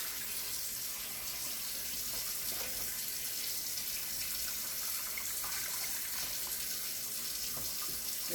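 Water pours steadily from a kitchen tap into a thick flour-based sauce being thinned out, a continuous close rushing splash with no talking.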